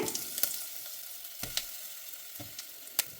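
Masala chilli powder hits hot tempering oil for a palak and drumstick sambar, giving a steady bright sizzle with a few sharp crackles and pops, close and fairly quiet.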